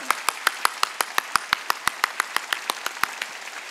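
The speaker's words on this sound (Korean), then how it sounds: "박수 치려면 세게 좀 쳐, 세게." Congregation at a Wednesday church worship service clapping in unison, a brisk, evenly timed series of about twenty sharp, loud claps with no talking over them.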